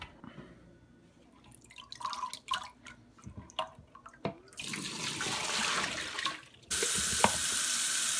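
Water drips and trickles into a kitchen sink as soaked potatoes are drained, scattered drops first, then a steady rushing flow from the tap that grows louder, with no talk.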